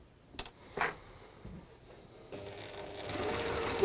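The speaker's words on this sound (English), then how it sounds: "I am going to sew now from that mark to the next mark." Sewing machine stitching a quilt border, running in a steady whir that builds over the last second and a half after a few scattered clicks and handling sounds, fairly close and moderately loud.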